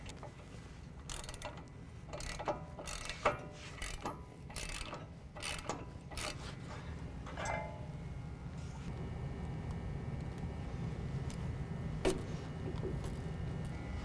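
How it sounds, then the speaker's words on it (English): A wrench ratchets loose the 21mm brake caliper bolts on a 2015-17 Ford F-150 4WD, with several quick bursts of clicking pawl strokes early on before a quieter mechanical hum and a lone click near the end. "now we're going to take our brake caliper off, and that's going to be two 21mm here and here"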